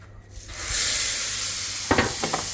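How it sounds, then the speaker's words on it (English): Rump cap beef sears on a hot barbecue plate with a steady, loud sizzle that swells after a quiet start, and a few scraping clicks toward the end. "So we're just going to sear it off there."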